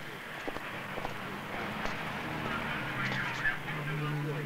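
A goose or duck honks faintly a few times against a steady low background murmur, somewhat distant, with no clear talk.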